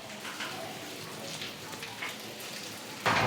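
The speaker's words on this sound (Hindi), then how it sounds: "आप देख सकते हो गेट के बाहर अभी बारिश हो रही है।" Rain falls outside a gate as a steady, faint hiss of drops on hard surfaces. A louder burst of noise cuts in right at the end.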